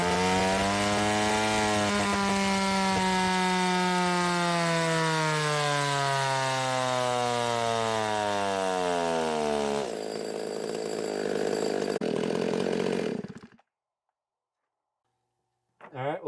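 A custom chainsaw with a +2mm big bore engine, ported, revs loudly up to a high wavering whine, holds it for several seconds, then cuts off into silence before a brief restart sputter.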